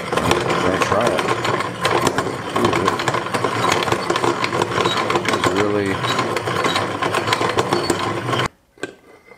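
An antique hand-cranked coffee mill is turned steadily, giving a continuous grinding, rattling mechanical churn close by that runs for several seconds before stopping abruptly, with a voice talking over it.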